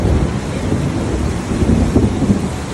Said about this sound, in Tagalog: lalo pa siyang lumalakas at sinasabayan pa ng mga malalakas na kunog at kidlat